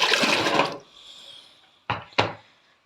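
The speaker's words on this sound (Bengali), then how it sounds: "এবার আমি এগুলোকে ধুয়ে সেদ্ধ দিব।" Cut watermelon rind pieces are washed in water in a kitchen: a close, short rush of splashing water, a quiet lull, then two brief sharp splashes.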